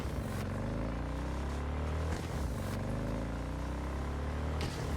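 A car engine in the video game Cyberpunk 2077 drives hard, a loud, steady droning roar that repeatedly climbs in pitch as it revs and shifts gears, with no talk over it.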